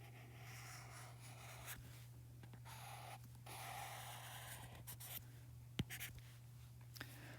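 Pen or pencil scratching on paper while a graph is sketched for a pre-calculus lesson, a steady close run of small strokes with brief pauses and a steady electrical hum underneath.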